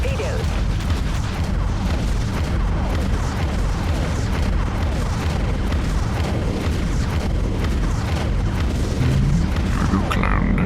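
Torpedoes launch and detonate in a naval combat video game, a steady rumble of deep booms and blasts running throughout, with a voice talking over the din.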